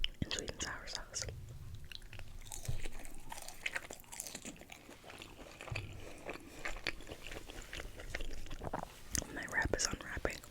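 McDonald's Happy Meal food dipped in sweet and sour sauce is chewed close to the mic, with crunchy bites, wet mastication and soft scrapes in an irregular rhythm under quiet whispering.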